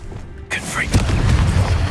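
Confringo blasting spell detonating in Hogwarts Legacy, a sudden loud boom after a brief quiet lead-in, followed by a dense rumbling burst and crackling debris noise.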